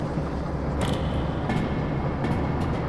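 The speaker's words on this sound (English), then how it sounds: "Now the train's running away from me." A runaway freight train rolling on rails in the video game Derail Valley, a loud continuous low rumble with faint metallic squeals and clicks breaking through now and then, steady throughout with no speech.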